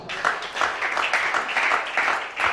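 A church congregation applauds during a worship service, a dense, steady patter of many hands clapping at once, fairly close and sustained throughout with small swells in intensity.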